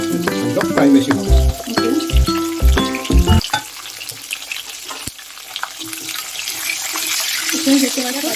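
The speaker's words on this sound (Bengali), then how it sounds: "কাঁচকলাটা ভাজা চলছে" Slices of raw green banana frying lightly in oil in a pan, a steady hiss of sizzling that fills the second half after a few seconds of voices and clatter at the start.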